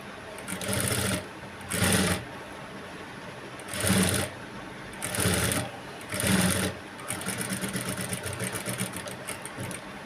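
Stitching a blouse on a sewing machine with piping and potli buttons: five short, loud bursts of rapid needle chatter separated by brief pauses, then a longer steady run, all close up.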